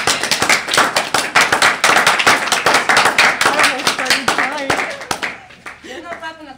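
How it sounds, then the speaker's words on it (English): Several people clapping in a courtroom, rapid uneven hand claps under overlapping voices, the clapping thinning out as talk takes over near the end. "There's no clap in the court."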